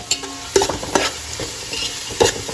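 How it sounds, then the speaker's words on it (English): Two finely chopped onions are stirred into hot oil in a pan, giving a soft continuous sizzle broken by a few sharp utensil clinks against the metal. "add in 2 onions which are chopped fine, and give it a good stir"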